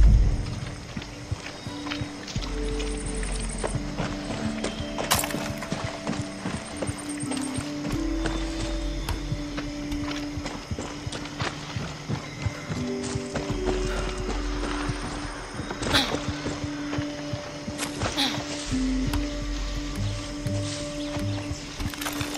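Horse hooves clip-clop steadily while riding in Far Cry 6, a rhythmic trot mixed with game music and mechanical rattles throughout.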